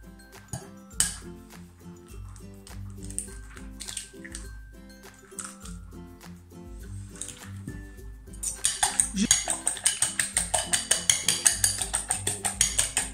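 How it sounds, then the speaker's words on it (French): Eggs are beaten for an omelette with a fork in a bowl: scattered clinks and taps at first, then a fast, steady rhythmic whisking with repeated metallic scraping and frothy splashing, close and fairly loud. "Je vais battre mes œufs en omelette."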